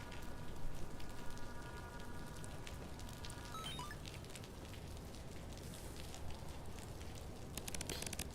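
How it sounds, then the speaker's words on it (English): Rain and water dripping in the rainy gravel lands level of the video game Casualties: Unknown, a quiet, steady patter of drops throughout, with a brief electronic tone early on and denser splashes near the end. "Water is dripping from everywhere here."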